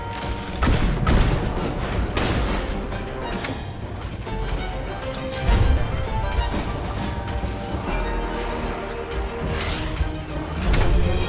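Heavy weapon fire in the steampunk mech video game Ironcast, a dense, loud barrage of booming blasts and crashing impacts with thuds and mechanical clanks, sounding in bursts throughout.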